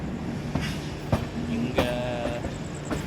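A small Uday Express train at a railway station platform, with low engine rumble and steady hum, sharp clanks and knocks of the coaches, a faint whistle-like tone, and a brief spoken word.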